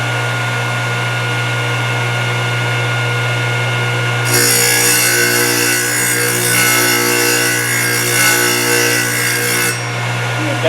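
A Thorvie AV-40 sharpening machine with its motor humming steadily, then its grinding wheel biting a blade for several seconds with a loud, continuous bright rasping grind before easing off near the end, no voices.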